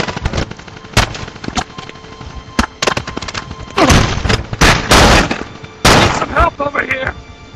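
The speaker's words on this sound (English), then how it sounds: "Watch your step, it's got a gun turret!" A gun turret fires in the Socom Fireteam Bravo 3 video game, loud rapid bursts of gunfire and booming impacts dominating throughout, with shouted voices mixed into the combat.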